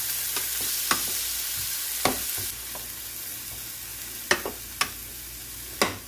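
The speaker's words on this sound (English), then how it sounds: "So you put your onions, your peppers, stir them around, stir fry." Onions and peppers stir-fried in a pan for baked spaghetti and meatballs, heard as a steady low sizzle with a handful of sharp scraping stirs spaced unevenly through it, close and moderately loud.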